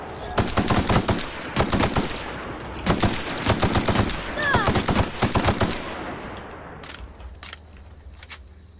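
Rapid automatic gunfire from the video game The Outer Worlds, loud repeated bursts rattling off in quick succession with short gaps, fading to quieter scattered shots near the end, with no voices.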